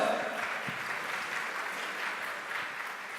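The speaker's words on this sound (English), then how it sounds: "can I hear one more round of applause?" An audience applauds after a show at a grand celebration, a steady, moderately faint round of clapping throughout with no clear speech over it.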